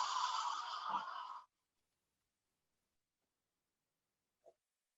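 A person exhales slowly and audibly through the mouth during a guided breathing exercise, a soft breathy rush lasting about a second and a half, followed by silence and a faint brief sound near the end.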